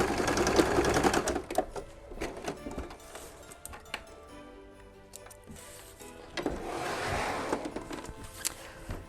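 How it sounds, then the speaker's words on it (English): A sewing machine stitches in short bursts on a double elf stocking, reversing to secure the end of the seam, with pauses and small clicks of fabric and machine handling in between. "we do a reverse stitch just to secure that bit"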